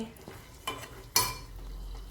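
Spices sizzle in hot oil as a tempering is made for fenugreek dal in a home kitchen. A soft, steady frying hiss carries a couple of brief stirring scrapes and a clink.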